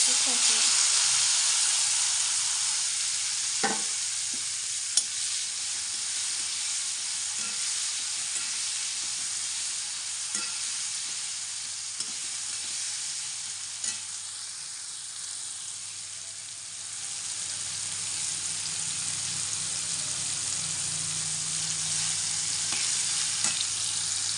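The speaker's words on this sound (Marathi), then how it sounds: "दोडका आता आपला चांगला परतलेला आहे" Ridge gourd frying in a pan after a mustard seed and asafoetida tempering, giving a steady loud sizzle with occasional soft stirring scrapes and clicks throughout.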